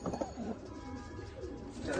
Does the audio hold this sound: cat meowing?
no